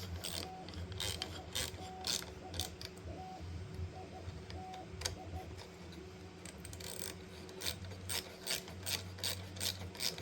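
Bolts being tightened on the dual Z axis of a Creality Ender 3 V2 Neo 3D printer, with repeated scraping, ratcheting clicks from the tool, close and fairly faint over a steady low hum.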